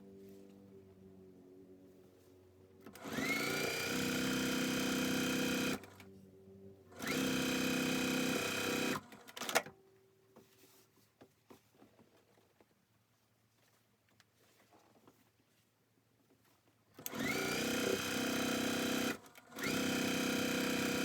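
A sewing machine stitches strips onto a scrappy log cabin quilt block, running in three loud bursts of rapid whirring with quiet pauses between, and handling noises in the gaps.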